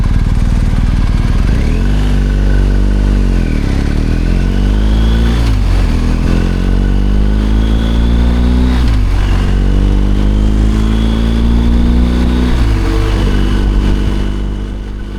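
A BMW R1250 GS Adventure on Dunlop Trailmax Mission tyres rides a road on a summer day in Adelaide, its engine loud and close, rising and falling through several gear changes with steady wind and road roar.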